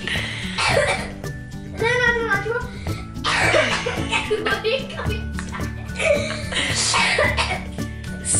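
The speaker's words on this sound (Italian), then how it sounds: "Non devi tossire." Several sharp coughs burst out close by, mixed with background music and a voice.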